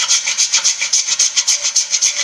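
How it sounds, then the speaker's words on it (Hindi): Mace spice being grated by rubbing, a steady rhythmic back-and-forth scraping of about a dozen even strokes, close and fairly loud, with no voices. "जावित्री को हम थोड़ा घिस के डालेंगे इस तरह से।"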